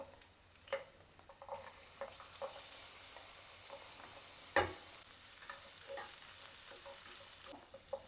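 Chopped onion and green chilli frying in a pan, a steady soft sizzle close by, broken by a few sharp clicks of a stirring spoon, with no voices.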